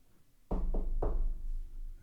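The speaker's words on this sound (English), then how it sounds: "something knocks back." Three sharp knocks on a wooden crate, two close together then a third, loud and near, followed by a low hollow rumble with no talk.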